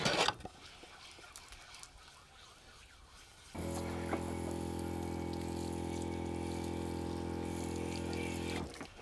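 Running tap water rinses sushi ingredients such as prawns and scallops: a faint clatter first, then a steady loud gush of water for about five seconds that cuts off abruptly, no talk.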